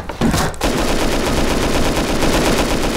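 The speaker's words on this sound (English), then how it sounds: "He's trying to shoot through!" In the survival game Rust, loud automatic gunfire rattles in a steady, rapid stream after a brief gap, sustained and close throughout with no voices.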